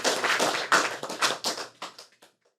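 A conference audience claps in a short burst of applause for a colleague about to be married, loud at first and thinning out to silence after about two seconds.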